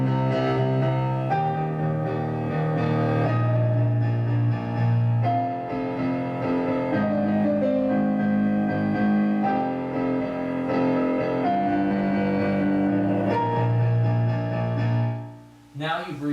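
Solo piano plays a repeated passage of the Shin Gojira theme, with sustained low chords under a slow melody, close and full, and a short voice right at the end.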